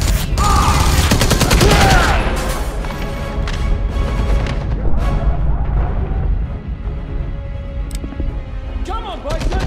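Dense gunfire and machine-gun bursts in a WWII battle video game, loud and continuous with explosions mixed in, crackling shots throughout and shouting voices beneath the din.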